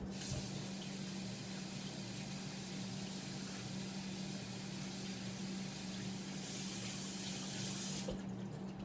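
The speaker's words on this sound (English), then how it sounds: "Let me wash my hands really fast." Hands washed under a running kitchen or bathroom tap make a steady, even rush of water, fairly quiet and unbroken throughout, with no one speaking.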